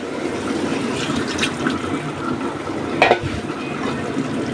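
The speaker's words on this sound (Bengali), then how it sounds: "মশলাটা ভালোভাবে কষায় নিই" A spice paste for a fish curry with green stems is stir-fried in a cooking pot, producing a continuous moist sizzle with scraping stirs and one louder clatter near the end of the stretch.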